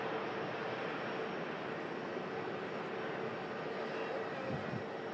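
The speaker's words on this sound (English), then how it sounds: "Taking off here at Manchester Airport." An Airbus A350-1000 takes off at Manchester Airport, heard as a steady, distant broadband jet roar that holds level throughout with no talk over it.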